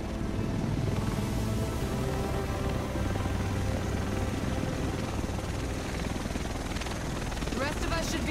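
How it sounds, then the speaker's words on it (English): A helicopter arrives in Tom Clancy's The Division, its dense, loud rotor roar and engine drone steady throughout, with voices speaking over it. "The rest of us should be in this chopper."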